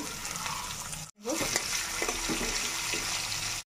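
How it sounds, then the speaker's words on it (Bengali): Chana dal and urad dal frying in oil in a pan, a steady close sizzle with brief stirring clatter, after a short cut to silence near the start. "দিয়ে দেব বিউলির ডাল, কিছুটা ছোলার ডাল ভেজে নেব"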